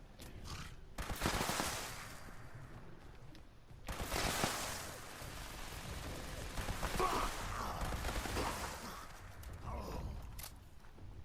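Bursts of rapid gunfire from a turret and weapons in the video game Fallout 76, several loud volleys separated by brief pauses, with a faint voice underneath.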